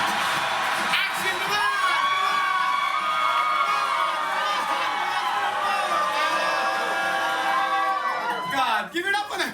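Theme park audience at Bollywood Parks Dubai shouting and cheering together on cue, a sustained mass of whoops and high-pitched yells, children among them, close and loud before fading out at the end.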